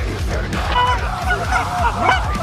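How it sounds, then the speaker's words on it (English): Geese honking during a goose hunt: repeated honks over a rough, busy background, with faint voices nearby. "Shoot this goose."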